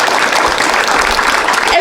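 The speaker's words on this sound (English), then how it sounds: "round of applause for that." A crowd at an outdoor Alzheimer's charity walk gives a brief, full round of applause, steady and fairly close.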